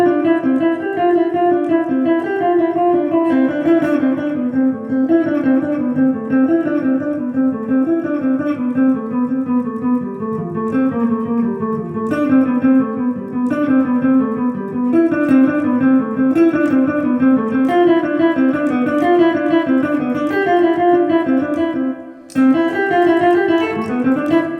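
Electric guitar playing a single-string picked etude in continuous, uninterrupted sixteenth notes, a steady rapid stream of evenly plucked tones, loud and close, with only a brief break near the end.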